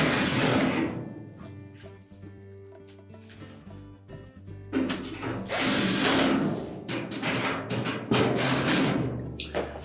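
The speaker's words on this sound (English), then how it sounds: "And then secure it with the 4 screws." A power driver runs screws into a Whirlpool washer during a bearing replacement: whirring bursts of varying length with short pauses between, close and fairly loud, with no talking.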